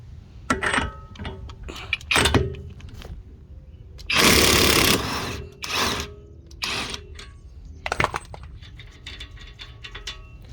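A Kobalt 24V cordless impact gun loosens a 32mm axle nut on a Ford Edge during an axle seal job, with one loud, close buzzing hammer burst of about a second amid scattered tool clinks and clatter.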